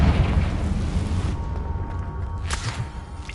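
A Confringo blasting spell explodes in Hogwarts Legacy, a loud booming blast with dense low rumble that fades out, followed by a sharp burst near the end.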